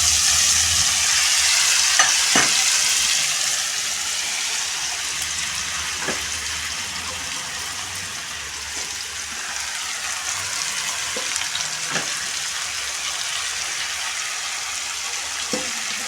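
Fish fries in oil in a wok, a loud, dense sizzle that eases slightly after the first seconds, punctuated by several sharp scraping stirs spaced a few seconds apart.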